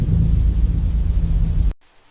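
Heavy rain pours with a deep, rolling thunder rumble at midnight, loud and close, filling the scene until it cuts abruptly to near silence.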